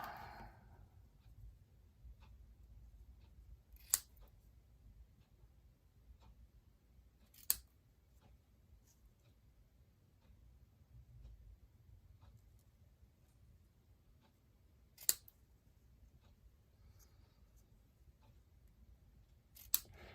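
Four isolated, sharp snips of scissors trimming a paper piece for a handmade card, spaced several seconds apart over a very quiet background.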